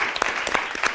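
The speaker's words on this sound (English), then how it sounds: "Let's give him a round of applause" Studio audience applause on a live UK TV chat show, a steady burst of clapping with sharp individual claps standing out, filling the whole second.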